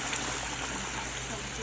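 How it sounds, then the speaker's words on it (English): Water is poured into a cooking pot in a home kitchen while making curried saime with potatoes, a steady, faint rushing stream with a low background hum that runs without a break. "I'm going to add some water to this."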